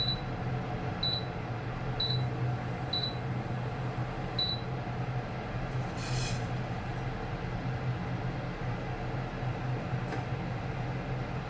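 A gas stove is lit under a wok that already holds oil, ready for frying fish. Regular soft ticks come first, then a short whoosh rises over a low, steady hum.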